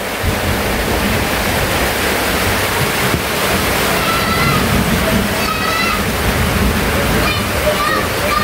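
Steady, dense hiss of heavy rain pours without pause, loud and close, with faint bird chirps coming through near the end.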